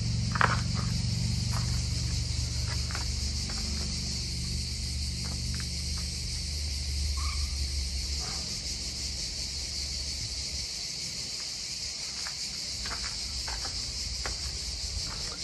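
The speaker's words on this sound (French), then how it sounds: "beaucoup de cigales qui chantent" A steady, high-pitched drone of many cicadas fills the air continuously in Vaugrenier forest, with a low rumble underneath and occasional soft clicks.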